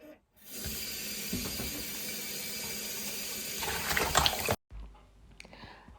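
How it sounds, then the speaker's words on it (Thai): Tap water runs steadily into a sink as peeled aloe vera is rinsed, a continuous close hiss with some splashing toward the end before it abruptly stops, leaving quieter handling sounds. "เมื่อปอกเสร็จเรียบร้อยนะ เราก็จะเอาเข้ามาล้างอีกเนาะ"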